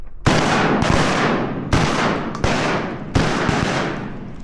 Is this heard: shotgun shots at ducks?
yes